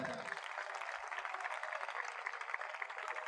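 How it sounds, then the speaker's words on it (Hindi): A congregation at a revival meeting claps together in continuous, fairly faint applause, a thin and even patter of many hands with no clear voices. "ब्रदर ब्रैनम के लिए जोरदार तालियां बजाएं जी।"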